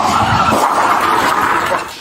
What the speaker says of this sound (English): That noise y'all just heard is his unit smashing into the back of that car because it just got rear-ended by another vehicle.